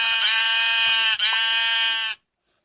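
Sheep in Minecraft PE bleat in one long, loud, buzzy call with a brief break in the middle, then cut off into silence.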